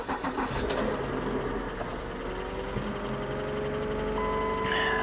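A 15K-mile Chevy Camaro SS idles steadily up close, its engine note running continuously for the whole stretch with a light, rapid lifter tapping mixed in over the rumble.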